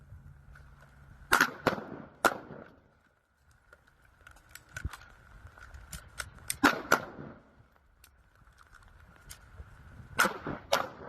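Pistol gunshots at an outdoor shooting class, sharp cracks fired in quick pairs and small clusters separated by pauses for reloading, fairly close and loud, with a steady high electronic tone running underneath and no talking.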